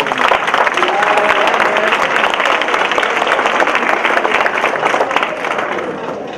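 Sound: audience applause at school luncheon

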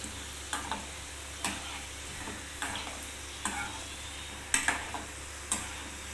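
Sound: chicken leg pieces frying in a pan

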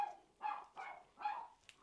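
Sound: dogs barking

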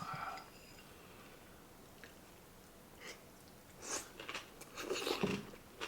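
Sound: chewing raw yellowtail with aged kimchi

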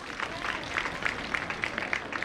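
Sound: audience clapping

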